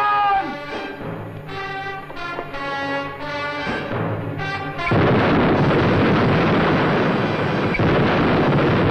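A massive explosion erupts in a Mexican frontier western film, a sudden loud blast that bursts into a sustained roaring, crackling rumble after a few seconds of tonal music.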